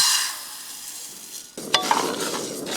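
Hemp seeds and soybeans are stirred in a wok, a soft hiss giving way to a louder sizzle with scraping and rattling of the seeds close by, no talk.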